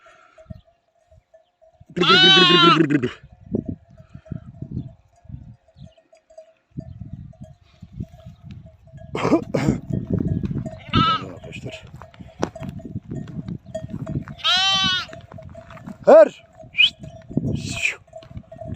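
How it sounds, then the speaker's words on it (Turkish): A lamb bleats loudly nearby, several wavering cries spaced apart, with people talking quietly in between over a faint steady hum. "Bu kuzumuzun adı da Eymen."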